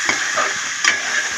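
Mutton keema fries in oil in a pan with a continuous close sizzle and hiss, broken by a few light stirring scrapes, with no talking.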